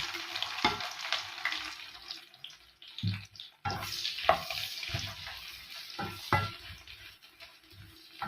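Chopped onion frying in a pan as the base for a Filipino mung bean stew, with intermittent sizzling and crackling broken by scraping stirs and clinks from close by, fairly quiet and without talk.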